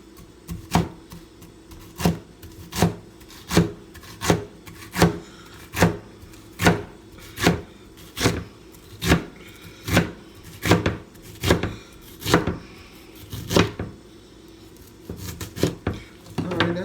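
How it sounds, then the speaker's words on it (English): Stacked vegetables are chopped on a cutting board with a knife in about fifteen steady, evenly spaced thuds, close and clear with no talking. "And just cut them all at the same time so they can all be the same length and shape"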